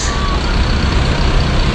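Bus idling at a roadside bus shelter in Indonesia, a loud, steady engine rumble with dense traffic noise close by, brief and continuous.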